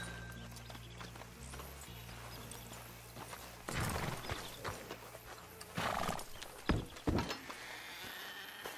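Horse hooves clopping and a whinny over a low hum, with a few sharp thuds; no talk, from the video game Red Dead Redemption 2.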